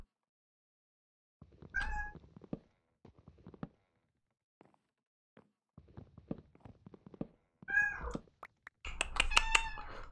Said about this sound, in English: My cat is at my door.